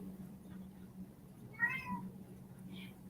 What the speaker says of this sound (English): that's her cat making a little meow